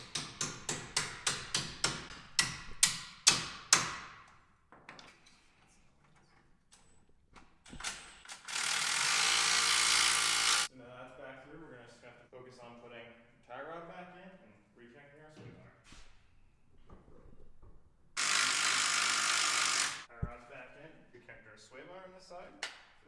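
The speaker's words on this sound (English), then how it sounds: "Ratchet for this because I can't get my gun in there." A hand ratchet turns a suspension bolt on a MK4 Volkswagen Jetta with a quick run of sharp, close clicks. Two loud bursts of mechanical whirring follow later, with someone speaking in between.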